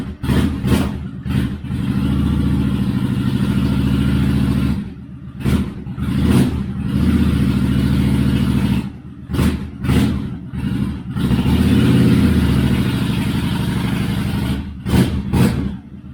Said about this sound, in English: bring the RPMs up a little bit, just slip it a little bit, pull it back in, slip it, do it 3 times